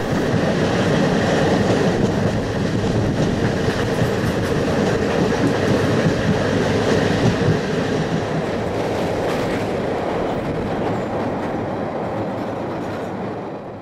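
A train runs steadily on rails near Bolpur, Santiniketan, with a continuous loud rumble and rhythmic clickety-clack of wheels over the joints, holding for the full stretch and easing slightly toward the end.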